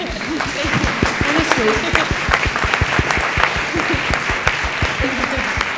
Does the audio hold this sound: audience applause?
yes